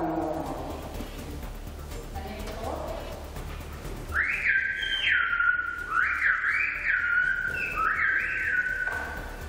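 Silbo Gomero, the whistled language of La Gomera, whistled by schoolchildren at the Canary Islands regional parliament: a series of loud, clear, sliding whistled phrases rising and falling in pitch, entering after a few seconds of murmured room noise.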